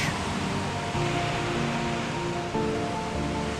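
Strong waves of the Eastern Mediterranean breaking along the sandy Çukurova coast, a steady broadband wash of surf with a slight surge near one second and another near two and a half seconds, close and continuous with no voices.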